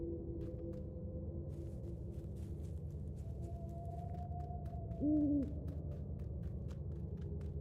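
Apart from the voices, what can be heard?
owl hooting at night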